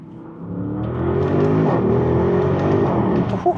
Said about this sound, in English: Oh, I can't get over the sound of this car